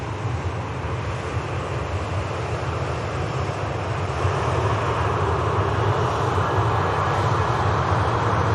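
An airliner climbs away after takeoff from Manchester Airport, a broad, steady engine roar from a moderate distance that swells slightly partway through, with no voices.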